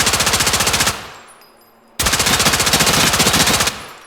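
The Rattler gun in Incursion Red River fires rapid, evenly spaced automatic shots in two loud, close bursts with a short pause between them.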